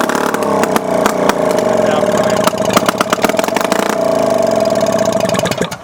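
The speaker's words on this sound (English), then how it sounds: "The thing starts and runs pretty good, and it don't even have a carburetor on there." A 1936 Johnson outboard engine with no carburetor fitted fires up and runs, a loud rapid popping putter with uneven rhythm and a steady whining tone, close to the microphone.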